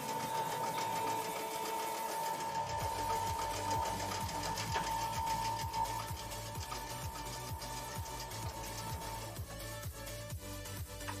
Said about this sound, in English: This is the easy sewing.